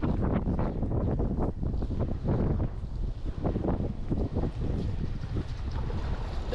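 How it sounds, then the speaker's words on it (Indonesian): Steady wind buffeting the microphone at the shore during ultralight fishing, a loud continuous rumbling roar with gusty surges and no pause throughout. "Udah mulai angin."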